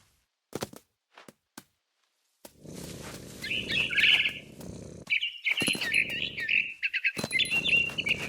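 Barn swallow chirping in a video game, bright repeated tweets in bursts over a low rumbling ambience, with a few sharp clicks near the start.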